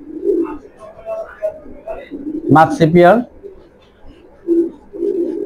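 Low, soft cooing from a pair of club racing pigeons rises and falls through the clip, close by, with someone talking over part of it.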